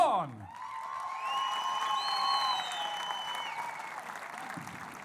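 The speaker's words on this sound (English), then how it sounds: "these Muay Thai warriors, they left it all in the ring. Let's have a round of applause." Arena crowd applause and cheering after a Muay Thai fight, a diffuse roar of clapping and whoops under loud sustained tones from the venue sound system, with a brief voice at the start.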